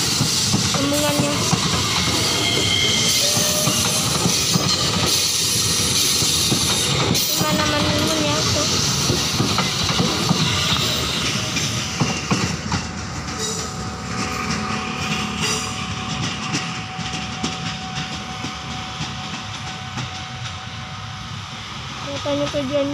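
A KRL JR 205 commuter train leaving the Bukit Duri depot bound for Jakarta Kota produces a continuous loud rumble and hiss of wheels grinding on the rails, with a squealing tone emerging midway as it passes close by.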